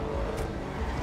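A Nightshark armored vehicle driving in GTA 5 Online, its engine a steady close rumble with a brief higher swish, continuous over the short moment.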